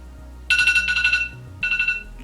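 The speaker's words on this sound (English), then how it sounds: "I usually have alarms set for 10 o'clock and 12 o'clock" A phone alarm rings in two bursts of bright repeating electronic tones, loud and close, with a short pause between them and no talk.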